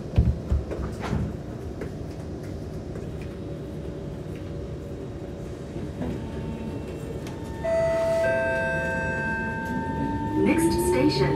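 A Kawasaki C151 SMRT train on Singapore's North-South Line hums and rumbles steadily from inside the car during the ride, with the traction motor's rising whine emerging in the later seconds.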